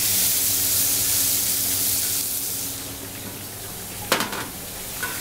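Meat sears in smoking oil in a pan with a loud, steady hiss that fills the clip, and a short metallic clatter comes near the end.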